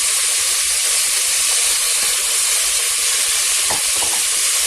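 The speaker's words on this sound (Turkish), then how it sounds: "Şöyle biraz kavuruyorum." Meat with a spoonful of tomato paste sautéing in a pan for an okra and meat stew, a loud, steady, close sizzle with faint scraping stirs underneath.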